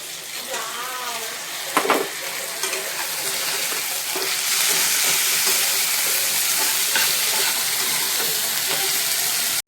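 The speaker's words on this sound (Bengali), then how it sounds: "তেলে ভালো করে ভেজে নেব টমেটো কুচিটা আলুর সঙ্গে।" Chopped tomato and potatoes frying in hot oil, a steady bright sizzle with occasional stirring scrapes that swells louder midway and holds, no talk over it.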